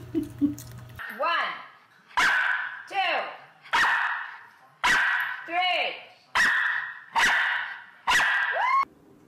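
A puppy barks repeatedly, about eight sharp, close yaps at a steady rhythm, each ending in a short whining tail, after a brief moment of other sound at the start.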